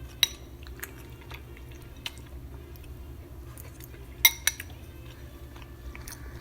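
Someone eats a pasta dish with cannellini beans and Parmesan, producing soft chewing with scattered sharp clicks of cutlery against a plate over a low steady hum.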